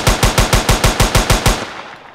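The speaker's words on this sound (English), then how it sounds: "so I have a gun, AWC something, and then if I shoot at it" An AWC gun in an Unreal Engine 4 game fires about nine loud shots in a rapid, even burst, followed by a short fading tail.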